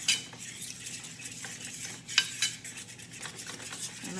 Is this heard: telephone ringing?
no